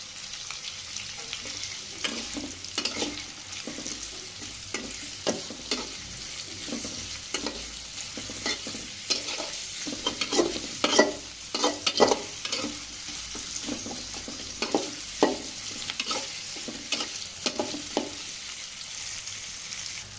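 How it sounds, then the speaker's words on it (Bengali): Onion sizzles and is stirred in a hot pan, a continuous frying hiss broken by regular scraping strokes of a spoon, close and moderately loud, with no talking. "পেঁয়াজটা একটু নাড়াচাড়া করে নিব।"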